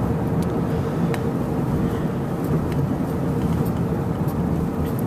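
A car driving steadily on a road toward home, with constant low engine and road rumble and light tyre hiss throughout, no pauses, heard from inside the cabin.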